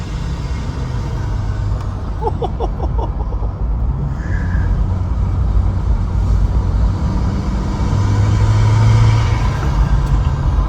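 A 6.4 Powerstroke diesel truck pulls out of a driveway and drives off down a road, its engine a steady, loud, low rumble throughout, with a brief higher whine partway through and no talking.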